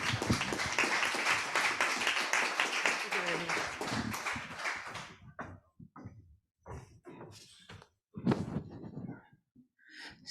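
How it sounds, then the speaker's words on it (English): A conference audience applauds for about five seconds, dense and fairly close, then the clapping stops and scattered taps, rustles and short pauses follow. "Please give him an applause."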